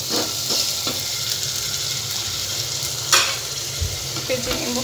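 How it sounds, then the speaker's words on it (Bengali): Garlic, ginger and onion paste frying and being stirred in a pan, a steady close sizzle with scraping stir strokes and a few sharper clatters. "তো আমি এখানে দিয়ে দিব রসুন আর পেঁয়াজ বাটাটা, আদা আর পেঁয়াজ বাটাটা। এটা আমি একটু বেজে নিব।"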